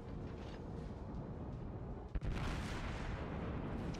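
The German battleship Tirpitz fires a main-gun volley in World of Warships: a sharp, loud blast near the middle breaks through a steady low rumble of sea and battle ambience, with a rolling boom afterward.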